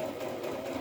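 A sewing machine runs continuously as it stitches small fabric scraps into snippet strips, a steady close whirring hum.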